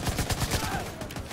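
Light machine gun fire in The Division 2 rattles off as a rapid string of close, evenly spaced shots, roughly a dozen in just over a second.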